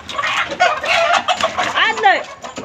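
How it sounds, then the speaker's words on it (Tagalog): Agitated clucking and squawking from chickens close by, busy and overlapping, with a person's voice mixed in. "Mag-away yung mga manok."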